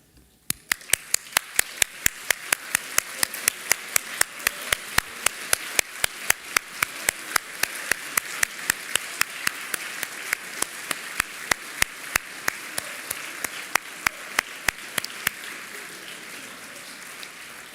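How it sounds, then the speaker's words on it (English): Graduates and audience at a commencement ceremony clap in slow, steady unison, a regular run of sharp synchronized claps over a softer bed of scattered clapping that goes on for many seconds. "I invite you to stand up one more time and applaud those people and yourselves"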